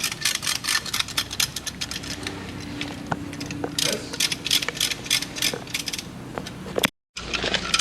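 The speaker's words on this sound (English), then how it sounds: "we're using this nice tool, pushing all 4 pistons in, nice and easy" A piston-retracting tool pushing the four brake caliper pistons back on a 2022 BMW X5 40i, close ratcheting clicks and mechanical creaks over a low hum, with a brief cut to silence near the end.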